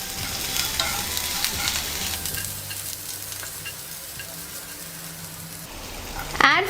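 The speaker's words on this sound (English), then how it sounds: "Then add onions. We'll saute onions on medium flame." Onions and mustard seeds sizzling in hot mustard oil in a pan over a medium flame, a steady frying hiss with light stirring scrapes and a brief utensil clatter at the very end.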